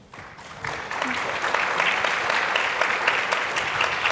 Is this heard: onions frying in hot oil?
no